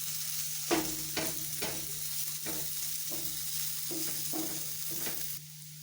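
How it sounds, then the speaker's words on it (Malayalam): Mushroom cutlet mixture with onion and spices fries in a pan while a spoon stirs it, about eight regular scraping strokes over a low steady sizzle and hum, close and without talk. "നന്നായി ഒന്നും കൂടെ ഇളക്കി കൊടുക്കും."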